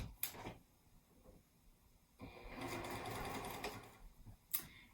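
Sewing machine stitching across the folded top edge of a fabric pocket for a zippered cosmetic bag, a steady close whirring run in the middle with short bursts and clicks at the start and end.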